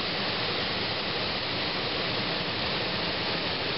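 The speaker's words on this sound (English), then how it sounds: "definitely a pretty waterfall." The Cascades waterfall on a river in George H. Crosby Manitou State Park, a steady, dense roar of rushing water, constant and close with no voices.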